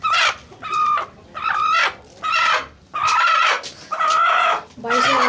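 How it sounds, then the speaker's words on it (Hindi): A hen being caught by hand to sit on eggs gives repeated loud clucks and squawks in short bursts, close by, with a voice around them. "तो दोस्तों मैंने मुर्गी पकड़ ली है"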